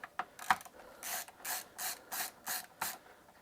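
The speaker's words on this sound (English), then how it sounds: "So we have 2 more screws to take out here." Screws being backed out of a PS5 Slim motherboard with a screwdriver during an HDMI port repair: a series of short, evenly spaced scraping ratchet-like bursts, close and fairly quiet, with no talking.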